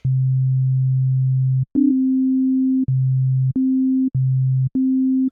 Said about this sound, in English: We get a sine wave.